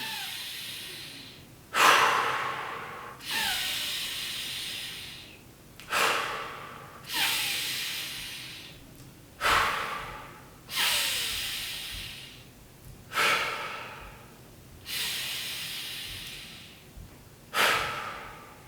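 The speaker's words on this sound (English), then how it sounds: "You're breathing in." Deep, slow breathing during a floor breathing exercise, with about ten loud breaths recurring every couple of seconds, each a sharp onset that fades away, close and alone.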